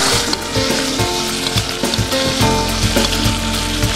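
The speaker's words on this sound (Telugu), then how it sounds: "మనం వేసిన మసాలా అన్ని ఫ్రై అయిపోయిన తర్వాత చికెన్ వేసుకొని కొద్దిగా చికెన్ వేగాక" Chicken pieces frying with masala in a pan make a loud, steady sizzle, with repeated soft stirring knocks running through it.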